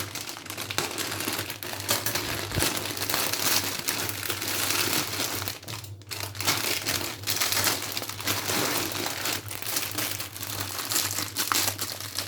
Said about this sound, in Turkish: biz petibon bisküvilerimizi açalım